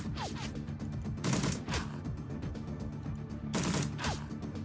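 A Ruger revolver fires in the game Shadowrun Dragonfall, with two sharp loud bursts of gunfire separated by a few seconds and softer impact crackles in between.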